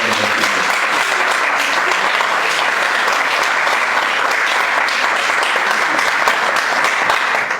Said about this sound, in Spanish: Por favor, demos un aplauso y bienvenida a la senadora.